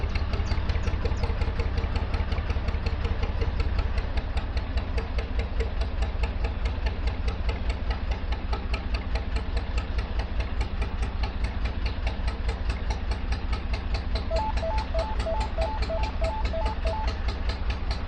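A narrowboat's diesel engine chugs hard on the Oxford Canal, a loud, steady, rhythmic throb with deep knocking pulses that continues unbroken and close.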